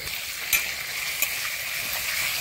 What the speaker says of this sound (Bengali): এখন আমরা এই কেটে রাখা আলুগুলো ভেজে নেব